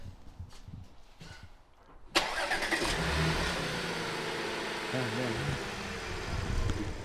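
An Audi S5 B8.5 with a Stage 1 tune cranks and starts with a sudden burst, revs briefly, then settles into a steady rumbling idle close by.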